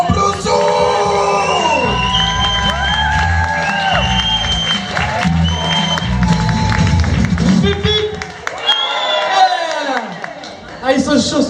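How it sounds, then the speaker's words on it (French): An audience at a stand-up comedy show in Nouméa, New Caledonia, gives a loud ovation, sustained clapping mixed with cheers, whoops and shouts that swell and persist, close and dense throughout. "J'aimerais que vous fassiez une ovation à Monsieur Momblousou."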